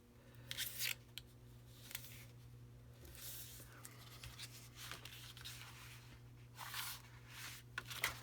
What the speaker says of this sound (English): I'm going to put my tape back on here just a second